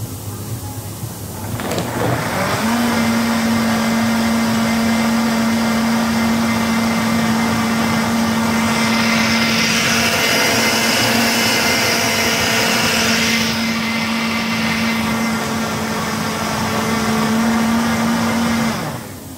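A blender runs loud and steady for most of the clip, its motor whine holding constant while ice for a frozen mocha grinds and rattles inside, then it cuts off.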